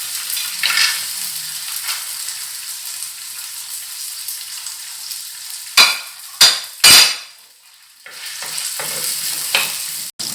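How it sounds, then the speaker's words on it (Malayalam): Cashew nuts sizzle and fry in hot oil in a pan for a Kerala-style chicken kabsa, with steady close frying hiss broken by a few sharp stirring scrapes midway. "നന്നായിട്ടൊന്ന് ഫ്രൈ ആക്കാം. ഇനി നമ്മുടെ കാഷ്യൂനട്ടും കൂടെ ഇട്ട് കൊടുക്കാം."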